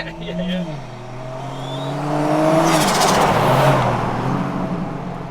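Turbocharged Barra engine in a restomod Toyota Land Cruiser FJ45 4x4, rated 300 kilowatts at the wheels, idling then revving to a loud rising roar with turbo whine and settling again, with people talking over it.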